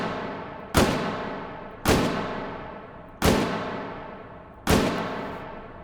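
Revolver fired in the VR shooting game H3VR: four loud single shots spaced roughly a second apart, each a sharp crack with a ringing tail that fades before the next, no talking.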